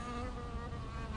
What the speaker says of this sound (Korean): 파리 꼬인 소리 들리네.